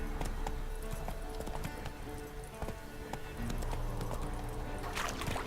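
Horse hooves clip-clop steadily in The Witcher 3, a continuous rhythmic trot at moderate volume over a constant bed of game ambience.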